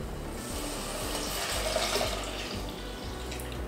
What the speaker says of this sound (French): On va rajouter directement tout le lait.